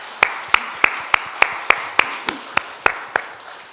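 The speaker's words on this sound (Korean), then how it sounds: "대청소 하신 분들을 위해서 감사의 박수 한번 하겠습니다" A church congregation at a Sunday worship service claps in thanks for the volunteers who cleaned the building, about eleven crisp claps in slow, even unison with quiet gaps between them.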